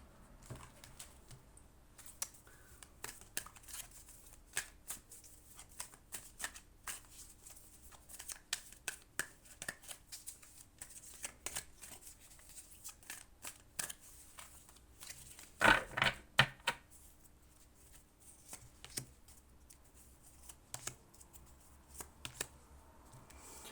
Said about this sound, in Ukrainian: отут я клала оці карти